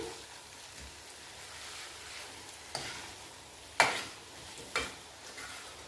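Potato sabzi with spices and green peas being stirred in a pan, soft scraping of a spoon with a few sharper clinks against the pan over a faint steady sizzle.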